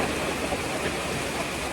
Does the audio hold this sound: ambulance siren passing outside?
no